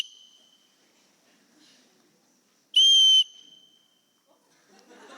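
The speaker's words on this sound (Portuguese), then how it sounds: "Um apito." A single sharp whistle blast, loud and piercing, cuts through near-silence for about half a second, followed by faint shuffling.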